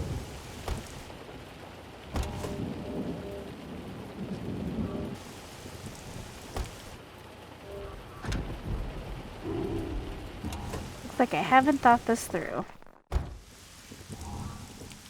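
Steady rain with rumbles of thunder in the video game Mystery Case Files: Key to Ravenhearst, a continuous patter with low rolling booms and a brief burst of in-game effects near the end, while a voice speaks over it.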